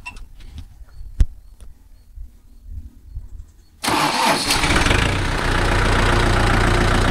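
A Kubota MU4501 45hp tractor diesel engine cranks and catches after a few seconds of quiet scattered knocks, then settles into a loud, close, even idle clatter that holds steady to the end.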